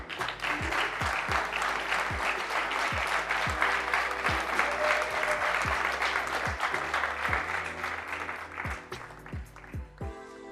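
Audience at a pintxos competition semifinal applauding as the jury comes to the stage, dense sustained clapping under light music with rhythmic beats, fading toward the end.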